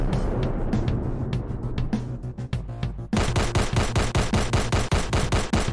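Steady, rapid automatic weapon fire in the shooter game Owinka Shooter, with loud, evenly spaced shots that grow tighter and more regular after the first few seconds.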